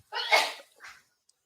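A single sharp sneeze, close and fairly loud, followed by a short softer exhale, then quiet.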